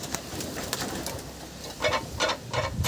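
Soft coos from Fesa pigeons of Beldanga repeat in short bursts toward the end, over light background noise with a few faint chirps.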